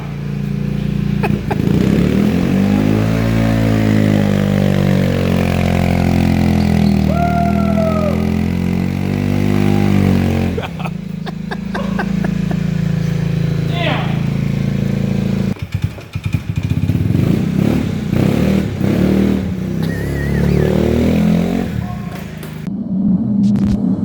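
A loud Honda 400EX ATV engine with an aftermarket exhaust revs up and down repeatedly with a raspy, rumbling note, close by, pitch sweeping as the throttle opens and closes.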